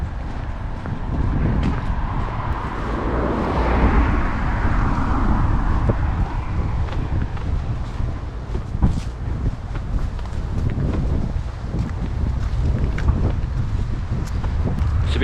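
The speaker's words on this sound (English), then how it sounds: "It's a bit windy." Gusty wind buffeting the microphone outdoors beside a narrowboat on a canal, rumbling continuously with surges and a few faint knocks, no talking.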